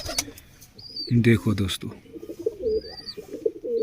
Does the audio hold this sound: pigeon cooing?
yes